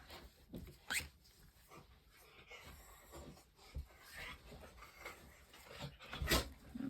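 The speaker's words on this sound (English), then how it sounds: "Now my dog's awake. She is going at it." A dog whimpers and carries on indoors, with faint, irregular whines and fidgety noises at low volume and no talking.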